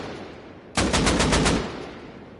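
AK rifle fired in the game Rust: a loud, close burst of about six rapid automatic shots lasting under a second, then a fading tail with no talk.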